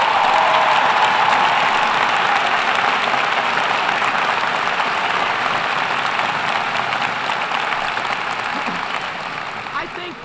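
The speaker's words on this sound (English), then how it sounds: "Let's give them a round of applause." A large inauguration audience applauds new Chicago aldermen taking their seats on the city council, a dense, steady roar of clapping that holds for ten seconds and slowly tapers near the end.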